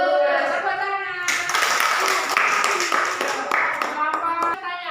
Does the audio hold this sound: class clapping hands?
yes